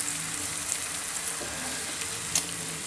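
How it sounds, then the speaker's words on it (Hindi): Spice masala fries in a pan with a dense, continuous sizzle and a faint scrape or two of stirring, close and steady with no talk. "अब ये मसाले को हम अच्छी तरह भून लेंगे"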